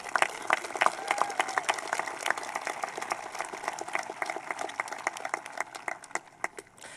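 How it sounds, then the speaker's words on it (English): A community gathering's audience gives scattered, loose applause, sharp individual claps over a murmur of crowd noise, moderately near and thinning toward the end. "I think it would be nice if we gave them all a round of applause as well."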